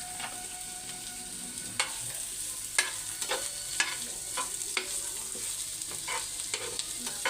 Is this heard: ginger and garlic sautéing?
yes